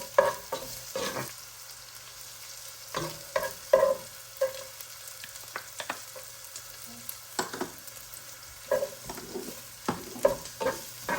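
Garlic and onions sauté in a pan for chicken arroz caldo, a quiet sizzle under repeated scraping stirs that come in irregular bursts, close by.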